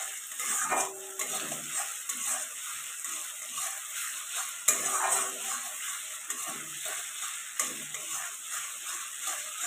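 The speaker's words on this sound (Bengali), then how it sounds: "তো ভালো করে এখন কষিয়ে নিতে হবে।" Ginger garlic paste stir-fried in hot oil for prawn curry, a steady close sizzle with repeated scraping and clinking of a utensil against the pan, no talking.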